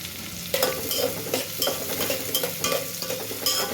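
Chopped onion with cumin and mustard seeds frying in hot oil for a tempering, a steady crackling sizzle broken by repeated scrapes and clinks of a stirring spoon against the pan, close up with no talk.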